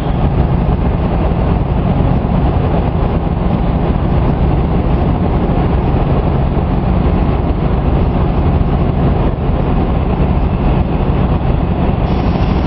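Union Pacific No. 949, a streamlined Steamliner locomotive rebuilt in 1993 with modern mechanical components, runs at a transportation museum, a loud, continuous rumble of rolling wheels and machinery that holds steady throughout, close and unbroken, with no voices.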